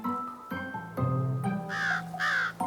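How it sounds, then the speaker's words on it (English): A flock of crows caw loudly and close by, several harsh, repeated calls overlapping in quick succession with a few louder bursts toward the end. "There were so many that it felt as if the entire world belonged to the crows."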